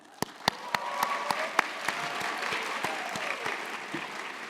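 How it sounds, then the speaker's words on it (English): An audience at a high school simulated political convention claps in steady applause, with some individual claps standing out sharply over the continuous wash of hands. "Let's give them a round of applause."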